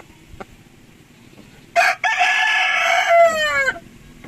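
A White Kelso gamefowl rooster in a backyard gives a single loud, close crow lasting about two seconds, with a short clipped start then a long sustained call that falls off at the end.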